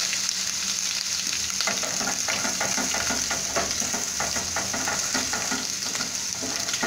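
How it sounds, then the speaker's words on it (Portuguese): Garlic sautéing in hot pork lard rendered from pork skin, a steady close sizzle and crackle in the pan with occasional stirring scrapes, no voices. "terminei de picar, agora eu vou refogar"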